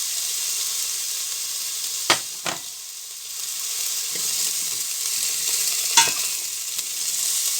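Chopped onions sizzling in a little oil in a pan at the start of a home-cooked fern recipe, a steady close frying hiss broken by a few sharp scrapes of stirring.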